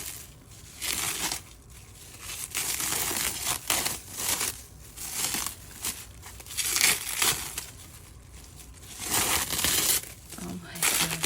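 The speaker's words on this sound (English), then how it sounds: "It's got the planter, but then it's also got all this plastic wrap around it." Plastic wrap around a planter crinkles and crackles in bursts as it is pulled off during an unboxing, loud and close, while a person talks in between.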